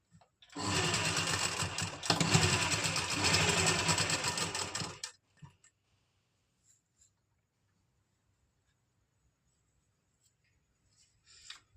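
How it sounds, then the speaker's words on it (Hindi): A sewing machine stitches lining and shirt fabric together for a party-wear suit, a close, steady mechanical whir running about four and a half seconds before stopping, followed by near silence and faint handling sounds. "इसके सेंटर पॉइंट में हम इस तरह से मिलाते हुए सिलाई लगा देंगे।"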